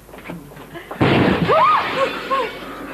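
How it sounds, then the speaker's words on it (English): A massive explosion in a quiet home goes off as a sudden loud boom with a long rumbling roar. Faint talk comes before it, and short rising calls or whistles cut through the blast afterwards. "What was that massive explosion?"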